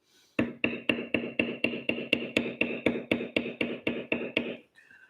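A beveler tool struck with a hammer on leather while tooling the background of a cow design: about eighteen steady, evenly spaced sharp taps, close and clear, with no talk.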